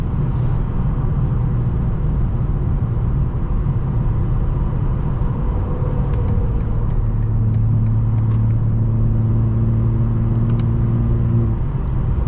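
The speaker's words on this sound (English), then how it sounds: "A little quarter throttle action don't hurt." A 900bhp BMW M4 Competition on a late-night drive from campus, its engine at quarter throttle giving a steady, loud low rumble with a rising drone partway through, no voices over it.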